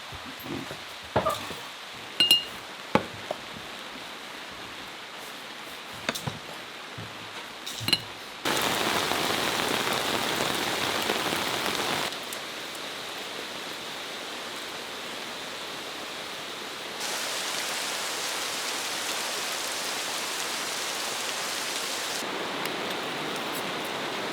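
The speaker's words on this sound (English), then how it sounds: "it is pouring rain" Heavy rain pours steadily as a dense broadband hiss, with a few sharp clicks and knocks early on before the downpour swells louder.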